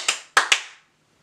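Three sharp hand claps, close and alone in a quick uneven rhythm, each ringing out briefly before silence.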